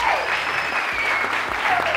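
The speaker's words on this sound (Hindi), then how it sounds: "उनको ऊपर से तालियां जोर से" Brief, loud burst of studio audience clapping on a television morning show, continuous and even for about two seconds.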